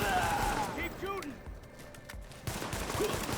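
Video game gunfire rings out in bursts around a home base being defended, with scattered shots and a fading tail, mixed under raised voices talking throughout.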